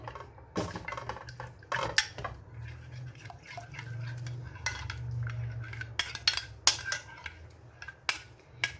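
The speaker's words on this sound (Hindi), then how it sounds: "ये देखिए ये अच्छी तरह से मिक्स करके इसको, दही की कोई गुठली ना रहे" A spoon mixes chicken into a yogurt marinade in a bowl for a steamed chicken roast, with irregular metallic clinks against the bowl over soft, wet squelching.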